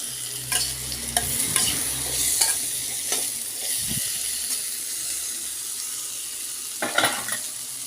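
Ivy gourd (kundru) being stirred in a pan as a stir-fry, with salt added: repeated close scrapes and clacks of the spoon over a steady soft sizzle, with no talking.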